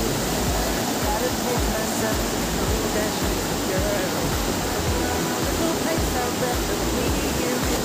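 A river flows with a continuous, dense rush of water that stays steady and fairly loud. Nothing else stands out from the flow.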